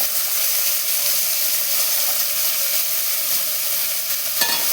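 Sliced onions with potatoes sautéing in a pan for a green peas kurma, giving a steady, close, even sizzle that runs the whole time, with a short metallic clank near the end.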